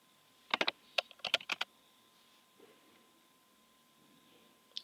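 Quick clusters of key presses on a computer keyboard, a few bursts of typing close by in a quiet room, then a long pause and one last tap.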